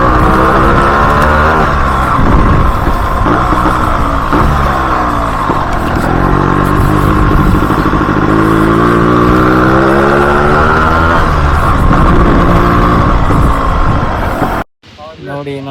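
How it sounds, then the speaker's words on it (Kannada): A Yamaha RX two-stroke motorcycle engine roars loudly and steadily while being ridden on a rainy Bisle Ghat ride, with shifting revs before cutting off abruptly near the end. "ಫಸ್ಟ್ ಟೈಮ್ ಓಡಿಸ್ತಾ ಇರೋದು ಗಾಡಿ. ಯಾವ ತರ ಇದೆ ಅಂತ ಸೌಂಡೇ ಸಾಕು, ಬೇರೆ ಏನು ಬೇಡ."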